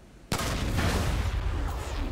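Gunfire in the video game Far Cry 5: one sharp, loud blast opens into a dense, sustained roar of shots and explosive rumble lasting about two seconds, with no talk over it.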